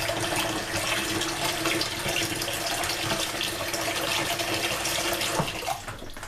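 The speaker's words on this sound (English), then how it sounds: "So fill a bowl up with water." Tap water pours steadily into a bowl in a home kitchen, a close, continuous splashing hiss that fades slightly at the end.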